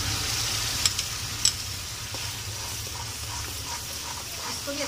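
Tomatoes frying with already-browned garlic and spices in a pan for a nargisi kofta salan: a low, even sizzle running steadily throughout, with a couple of faint clicks early on.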